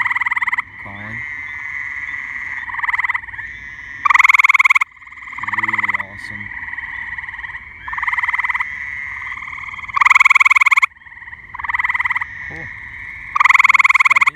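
Gray tree frogs calling at a pond in mid-spring, loud repeated trilling bursts of a second or two alternating with quieter overlapping trills, with brief speech under the calls.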